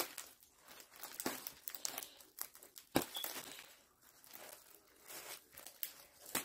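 Tissue paper and bottle wraps from opened mail crinkle and rustle close by in irregular bursts of crisp crumpling, with one sharper crackle midway and no talking.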